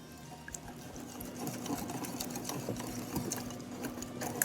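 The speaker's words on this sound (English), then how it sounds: "and 2 eggs. And we'll give that a whisk." A whisk beating two eggs into bran muffin batter in a bowl, a steady rapid clicking and swishing rhythm, close and continuous with no talk.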